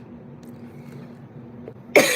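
A single sharp cough bursts out near the end, loud and close, after a stretch of quiet room noise, from someone still getting over the flu.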